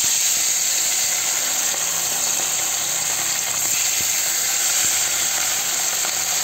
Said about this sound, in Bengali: এবার মাছগুলো তেলে ছেড়ে দেবো এক এক করে।